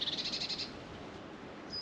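Rapid high-pitched bird trills in woodland in late winter repeat several times in quick succession, then a single thin whistle, over a quiet outdoor hiss.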